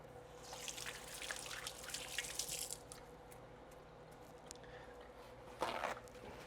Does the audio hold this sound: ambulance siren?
no